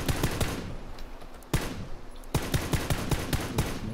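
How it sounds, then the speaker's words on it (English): Close-range gunfire in the battle royale video game PUBG: rapid bursts of automatic shots with several sharp, loud cracks standing out, dense and continuous over the whole stretch. "I hear a whole bunch of gunshots real close range"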